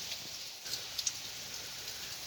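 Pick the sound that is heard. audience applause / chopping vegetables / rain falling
rain falling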